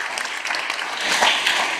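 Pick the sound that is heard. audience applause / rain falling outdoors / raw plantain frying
audience applause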